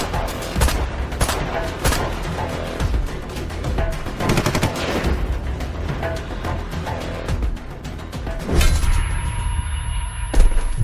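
Gunfire erupts during a battle in the suburbs of Baghdad, with dense, continuous bursts of machine-gun and rifle fire rattling loudly and overlapping throughout, heavier thuds breaking through near the end.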